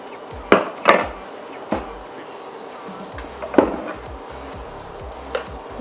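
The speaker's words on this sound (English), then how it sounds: "And just stir it up." A spoon stirs chicken tortilla soup with lime juice in a crockpot, giving a few sharp knocks and scrapes against the pot early on and then sparse, quieter taps over a low background.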